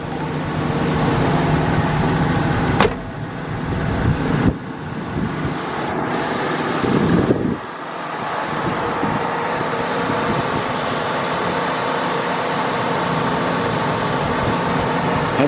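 A 1966 Ford F100 stepside small-block pickup idles high once warmed up, a steady rumbling drone with a few brief dips and clunks near the start, close and continuous throughout.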